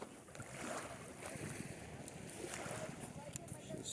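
Steady wash of Black Sea waves and wind at an evening seafront in Novy Svet, a broad rushing noise with gentle swells, fairly close and without any talking.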